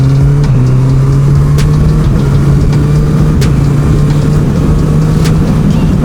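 A motorcycle already in sixth gear with the throttle held wide open gives a steady, droning engine note that rises only slightly and pulls weakly, running continuously and close throughout.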